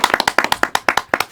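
A small audience applauding a rural boy, about a dozen sharp, close hand claps in a quick uneven rhythm, loud and alone.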